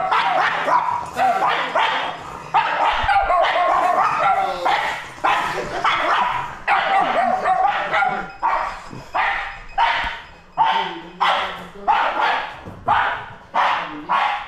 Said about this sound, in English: Your dog? Yes, oh, it's your dog.